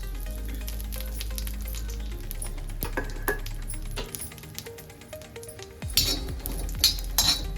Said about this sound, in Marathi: मसाला भाजून घेते. तेल टाकले मी.